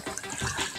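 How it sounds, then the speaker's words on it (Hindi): Water of Jaisamand lake is touched by hand, producing a brief, close swish and lap of water over a watery background wash, with no talking. "जैसमंद के पानी को वो छूने जा रहे हैं"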